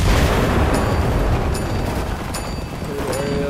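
Cannon fire in the Enlisted video game during a Battle of Stalingrad street fight produces several sharp blasts, roughly one per second, over a dense, constant roar of battle noise.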